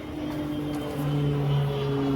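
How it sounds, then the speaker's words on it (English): A propeller airplane flies over a city backyard beehive, its steady droning hum holding throughout and swelling slightly louder midway as it passes overhead, with no talking. "Another airplane."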